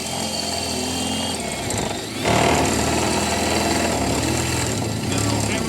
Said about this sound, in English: Hammer drill? Hammer mode. Hammer it out, bro.